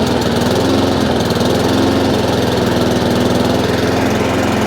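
A Honda IZY petrol lawn mower engine runs steadily and loudly up close, a constant droning hum with slight hunting in speed, with no voices.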